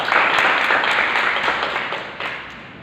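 Brief burst of audience clapping at a university Toastmasters club meeting, close and dense, tapering off toward the end.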